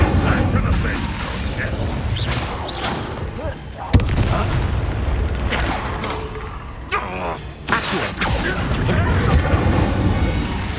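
Incendio, the fire spell in Hogwarts Legacy, cast during combat: loud booming blasts and sharp thuds over a busy layer of battle noise, with one distinct crack partway through.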